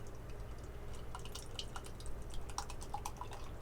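Glasshouse Shadow Tricks stout, a 6% beer, is poured slowly from a can from Birmingham, England, giving faint irregular trickling and dripping over a low steady hum.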